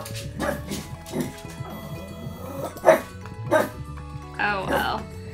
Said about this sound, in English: Now he's barking at it again.